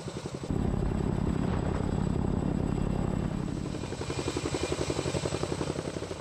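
A Boeing CH-47 Chinook tandem-rotor US Army helicopter in flight, its deep rapid rotor thumping loud and steady, swelling in after a brief start and then settling to a slightly lower, pulsing drone.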